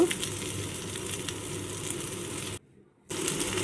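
Chopped prawns fry in a pan for prawn cutlets, a steady dense sizzle with faint crackle that cuts out briefly near the end and then resumes.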